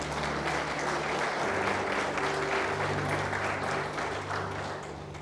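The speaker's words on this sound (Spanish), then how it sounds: "Aplauda al Señor." A church congregation claps together in praise during a sermon, dense continuous applause holding steady throughout with a sustained tone running beneath it.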